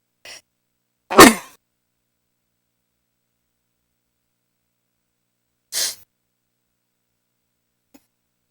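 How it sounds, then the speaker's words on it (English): One sharp sneeze bursts out of near silence, followed a few seconds later by a shorter breathy sound and a faint click. "So impressed I might sneeze."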